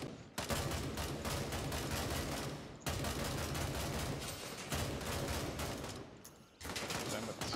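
Sustained gunfire in the military shooter Gray Zone Warfare: dense, continuous bursts of loud shots with only brief pauses between volleys, close and harsh.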